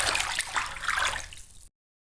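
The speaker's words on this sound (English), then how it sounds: "A hand movement in water." An anime-style sound effect of a hand moving through water: a short, bright splashing swish that churns for about a second and a half, then cuts off abruptly into silence, with no voices.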